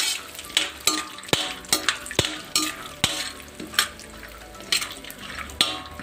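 Peanuts fry in hot oil for a cornflakes mixture, a steady sizzle broken by repeated sharp scrapes and clinks of a ladle stirring them in the pan, close and fairly loud.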